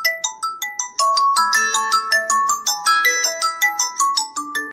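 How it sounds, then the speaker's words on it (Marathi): A mobile phone ringtone plays loud and close, a bright electronic melody of quick, evenly spaced notes that rise and fall. It repeats without pause and no one speaks over it. "आहे कोणाला फोन आहे"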